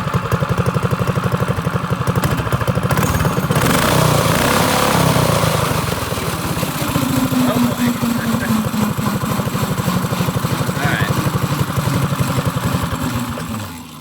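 A Stage One Predator small engine on a drift trike starts up and runs steadily, a loud, close, buzzing single-cylinder drone that holds for the whole stretch before easing off at the end.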